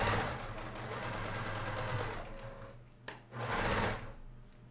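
A sewing machine runs while stitching quilt pieces, a close, loud, steady motor hum that stops briefly near the end, then a short clunk and a second burst of stitching, with no one talking.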